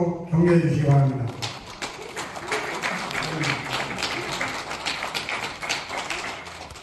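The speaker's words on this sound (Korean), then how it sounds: "앞으로 모실 때 응원의 박수로 격려해 주시기 바랍니다." An audience at a Korean ceremony breaks into applause after a brief moment of cooing, voice-like sound, then sustained moderate clapping from a crowded hall continues to the end.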